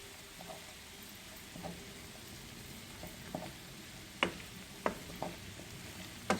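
Tomato paste sizzles quietly in a pan while a small wooden spoon mashes and stirs it for orman kebabi, with soft frying under several sharp taps and scrapes.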